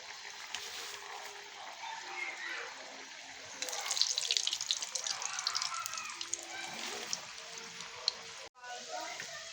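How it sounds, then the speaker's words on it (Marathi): Shankarpali pastries deep-frying in oil over a low gas flame: a steady bubbling hiss that swells noticeably partway through, then continues close and constant. "असं आपण मंद गॅसवर आता हे तळून घेणार आहोत"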